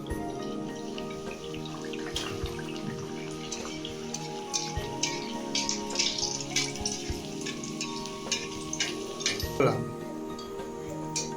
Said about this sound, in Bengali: এবারে তেল বসিয়ে দিয়েছি, বেলা হয়ে গেছে। এবারে আমি এগুলোকে ভেজে নেব।